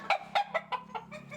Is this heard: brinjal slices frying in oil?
no